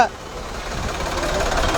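A tractor stuck in roadside traffic, its engine giving a steady, low, rumbling idle throughout, with voices talking nearby.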